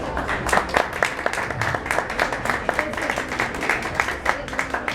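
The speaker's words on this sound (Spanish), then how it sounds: "Les pido un aplauso para él" A seated audience at a book presentation applauds an author with a dense, sustained patter of many hands clapping at once, fairly close and lively, without any talk over it.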